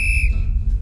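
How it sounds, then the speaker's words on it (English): A loud taxi-style whistle made by a person with fingers or lips: a short shrill piercing tone, close and alone, cutting off after a fraction of a second. "A loud whistle can be really useful."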